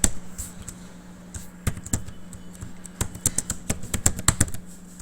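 Quick bursts of keystrokes on a computer keyboard while C++ code is typed, with clustered clicks separated by brief pauses, fairly close and clear over a faint steady hum.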